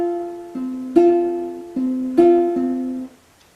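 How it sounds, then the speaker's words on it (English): Ukulele plucked in an alternating thumb pattern for a song intro, a few clear ringing notes stepping between two pitches, close and solo with no talking. "The first thing I want to work on is the plucking pattern for the intro."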